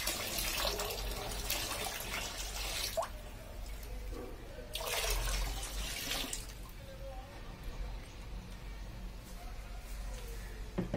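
Stored rainwater pours and splashes into a container for making jeevamruta liquid manure, coming in a few separate gushes between softer trickles and drips, close by.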